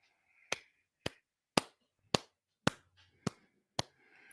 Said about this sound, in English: I'm sitting over here clapping like I'm a proud father of myself